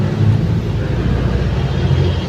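A rewound Greenfield 10 hp, 1750 rpm electric motor for a root pump runs at steady speed, a loud, even low hum and rumble with no break.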